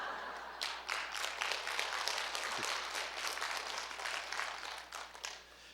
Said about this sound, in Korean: 원래 담임 목사 칭찬할 때 일어나서 박수 치는 거예요